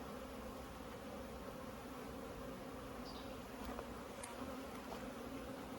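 Many honeybees humming steadily around a large hive, a dense unbroken drone up close with a few faint clicks over it.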